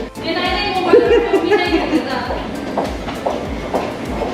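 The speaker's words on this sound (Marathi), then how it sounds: "मेट्रो बघू शकता तुम्ही, जुन्या काळातल्या मेट्रो आहेत." An old Paris metro train rolls along with steady rumble and regular wheel clacks, a high whining tone rising early on, voices faintly audible beneath.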